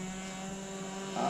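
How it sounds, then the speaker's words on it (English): Small RC sport plane (an Uproar model) flying past, a steady propeller drone with a sustained engine tone at moderate distance that swells slightly louder near the end. "A little flyby."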